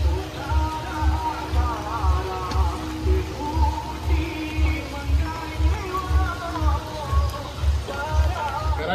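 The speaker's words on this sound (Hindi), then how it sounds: "भाई बारिश शुरू हो गई यार" Steady light rain falling outdoors during a weekend trip in Rishikesh, a continuous patter with rhythmic low thumps throughout and faint voices and crowd murmur in the background.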